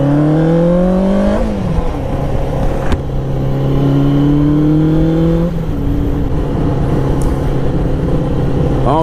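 A Suzuki Katana 600cc motorcycle, its exhaust now exiting at the rear, revs up close and loud, the engine pitch climbing, dropping and rising again through several throttle blips.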